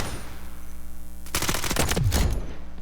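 Automatic rifle fire from the Delta Force video game comes in as a loud, rapid burst of shots that starts partway through and keeps going to the end. Quieter game ambience plays before it and there is no talk.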